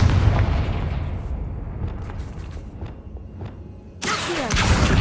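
A Confringo spell blast in Hogwarts Legacy, a heavy booming impact with rumbling decay and scattered thuds, followed near the end by a second sudden loud burst, with no talking.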